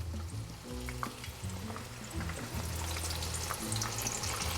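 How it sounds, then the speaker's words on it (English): Cheese flautas fry in hot oil in a skillet over medium-low heat, giving a steady, soft sizzle and crackle that continues without pause, close but fairly quiet, with no voices. "So I have enough oil in this skillet to fry my flautas."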